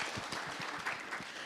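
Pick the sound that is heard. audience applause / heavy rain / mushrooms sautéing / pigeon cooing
audience applause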